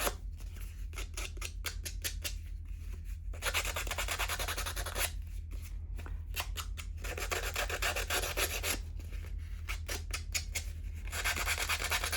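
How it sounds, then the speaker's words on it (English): Sandpaper rubbing along the edges of a handmade card journal, close and steady, in repeated back-and-forth bursts with brief pauses between strokes, over a low constant hum. "when you sand the edges like that"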